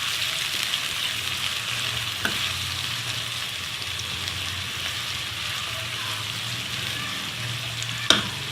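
Chopped omelette-style onions sauté in hot oil in a pan over medium heat, a steady close sizzle with a couple of sharp spatula clinks and no talking.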